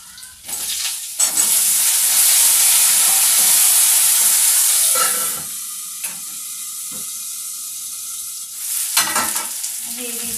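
Chopped garlic and vegetables frying in oil give a loud, dense sizzle with stirring for several seconds, then a quieter stretch marked by faint steady tones before a second burst of sizzling.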